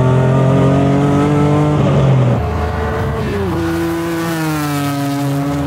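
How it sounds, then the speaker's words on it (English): A Ferrari engine with six individual throttle bodies howls on a race track, holding a high pitch, then dropping sharply as it shifts and pulls again, loud and close with wind noise. "6 individual throttle bodies that give it a really unique tone. This motor is super spicy."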